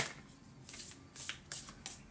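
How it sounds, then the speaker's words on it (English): A deck of oracle cards is shuffled in a few quick riffling swishes, close and soft, with no voice over it. "I'm just doing a little shuffle here"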